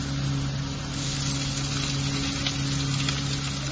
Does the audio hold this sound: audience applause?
no